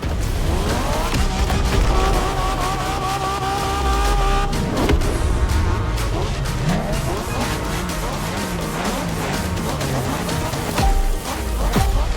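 Racing game engine roar from The Crew Motorfest, with revving and repeated tire squeals and skids during Japanese street racing, loud and continuous for the whole stretch, with no talk.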